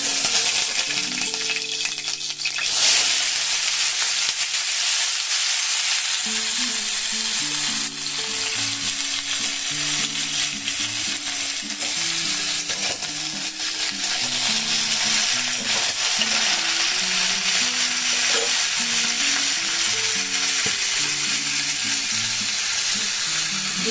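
Mixed vegetables fry in a pan with a loud, continuous sizzle, close and steady for a long stretch, joined by faint tonal music in the background.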